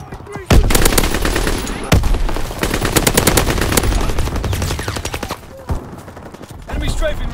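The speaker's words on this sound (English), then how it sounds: "Enemy flak incoming." Anti-aircraft flak from the enemy in Call of Duty WWII pounds without a break: dense, rapid bursts of gunfire with heavy booms. It stays loud and close throughout, and a voice speaks faintly under it.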